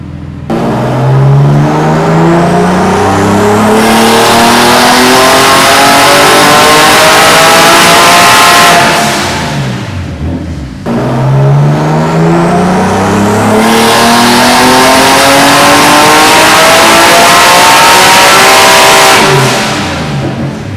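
A BMW M3 engine being tuned revs hard at full throttle in two long pulls, its loud rising engine note climbing steadily and then dropping off, close and continuous with no talking.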